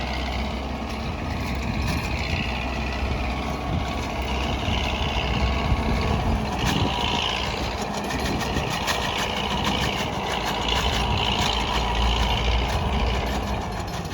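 A tractor engine runs steadily nearby, a continuous low rumbling drone with a clattery mechanical texture that never lets up.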